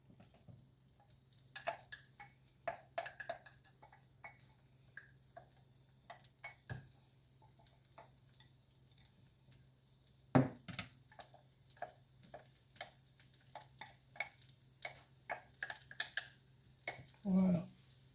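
Two small onions and two garlic cloves sautéing in a pan: a quiet, continuous sizzle with scattered pops and ticks, plus occasional louder clinks and scrapes of a utensil, fairly close and soft throughout.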